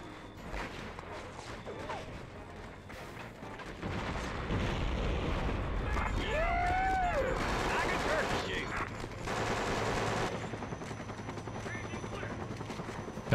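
Gunfire from the PS2 video game Conflict: Desert Storm 2, a continuous dense wash of game combat shots and explosions lasting throughout, with a voice talking over it in places.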